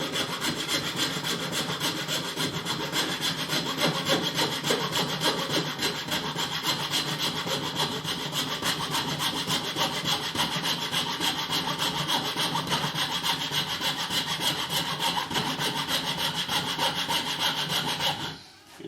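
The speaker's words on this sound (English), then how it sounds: "It definitely cuts better on mahogany because mahogany is a lot softer." Hand saw cutting through soft mahogany while building a thinline Telecaster-style guitar body, a steady, continuous rasping of rapid back-and-forth strokes, close and loud throughout with no talking.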